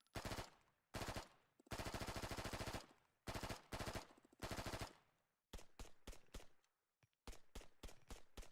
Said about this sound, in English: COD gun sound effects. I'm gonna be real. The best gun sound effects from COD